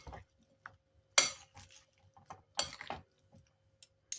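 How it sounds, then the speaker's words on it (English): Chicken wrap filling stirred with dressing in a bowl, giving sparse clinks and wet scraping strokes in short irregular bursts, close and fairly quiet with gaps between. "Now you want to go ahead and mix everything together."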